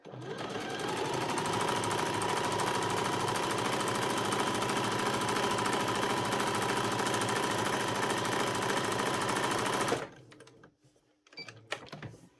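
A sewing machine runs steadily at speed while stitching jogging bottoms, a dense close mechanical whir for about ten seconds before stopping abruptly, followed by faint handling noises.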